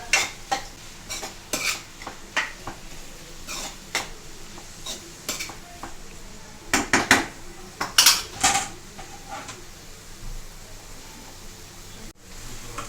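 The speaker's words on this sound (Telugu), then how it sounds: "దీనిలోని తర్వాత పచ్చిమిర్చి ముక్కలు, ఇవి కొంచెం వేగాలి. మరీ వేగన అవసరం లేదు," Green chilies and onions frying in a pan and stirred with a metal utensil, giving repeated close scraping and clinking strokes over a light sizzle, with a few louder clattering bursts toward the end.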